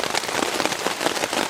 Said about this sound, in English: It started raining considerably more, so we're hunkered down under the tarp.